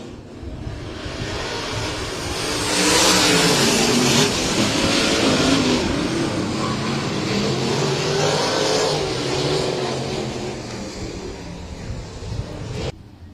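Outlaw sprint cars racing at Heart O' Texas Speedway, a loud, continuous roar of engines that swells and holds as the pack passes, with no talk.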